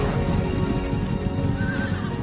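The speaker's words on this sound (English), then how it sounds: "it's like cuts of horse documentaries and slightly graphicized horses standing around" Horses from documentary footage, played as game audio, whinny and clop their hooves continuously under a dense, steady wash of outdoor noise, fairly loud with no talking.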